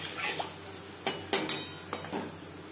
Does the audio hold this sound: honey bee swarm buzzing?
no